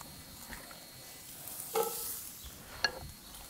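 Onions tossed into a smoking hot Dutch oven before any oil, giving a faint low crackle with a couple of brief louder clatters and sizzles midway.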